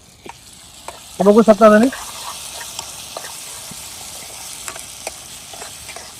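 Fried onion and tomato are stirred in a pan for egg biryani, giving a soft, steady sizzle with occasional scrapes, and a brief voice speaks near the start.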